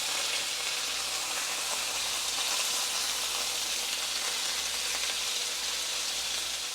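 Beef shank searing in a hot pan, a steady loud hiss and crackle of fat and juices that holds unbroken for several seconds with no talking.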